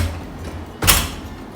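A hotel room door at a Jamaican beach resort closes with one sharp thud and latch click partway through, over a steady background hum of air conditioning.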